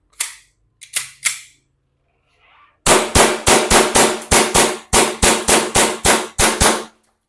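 An airsoft gas blowback pistol firing with a cold magazine: three spaced sharp cracks, a short pause, then a rapid string of about fifteen loud, close snapping shots with slide clacks, and no talking.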